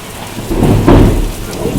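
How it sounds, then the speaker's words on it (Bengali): Heavy storm rain pours close by, loud and steady, with a low thunder-like rumble that swells midway. There is no speech. "বৃষ্টি হচ্ছে বাবা বৃষ্টি গায়ে ছিটে আসছে"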